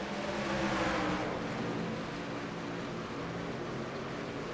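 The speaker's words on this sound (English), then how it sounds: "The roar of the trucks here, these things absolutely amazing to hear." Loud, dense engine roar of racing pickup trucks at Chicagoland Speedway during a truck series race, a continuous wall of sound that swells briefly early on then holds steady, with no talk.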